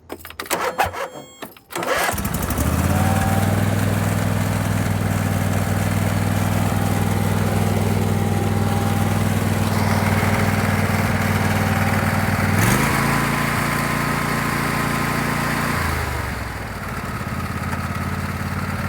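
A Briggs & Stratton Intek V-Twin on a YT4000 riding mower starts and settles into a steady, loud idle on a Nikki two-barrel carburetor. The engine holds an even pitch with no surging, with a brief speed change late on.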